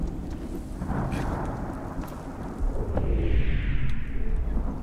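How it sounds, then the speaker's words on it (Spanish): Rumbling thunderstorm drawing near in the video game Smalland: Survive the Wilds, a continuous low roar with rain-like hiss that swells louder toward the end, with no talk over it. "Se acerca tormentón."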